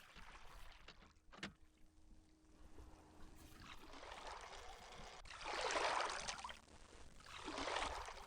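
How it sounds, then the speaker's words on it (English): Water flows somewhere in the Myst game world, a soft rushing wash that swells twice toward the end over a quiet ambient background, with a faint tone and a brief click early on. "You hear water somewhere?"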